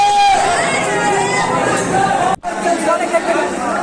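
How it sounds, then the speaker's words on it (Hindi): A large crowd of devotees at an ancient Shiva temple in Gola Gokarannath during Sawan, a dense, close babble of many voices filling the space steadily, cut briefly by a sharp break partway through. "भीड़ इतनी कि पूछिए नहीं, पुलिस वालों के भी पसीने छूट रहे हैं भक्तों को कंट्रोल करने में"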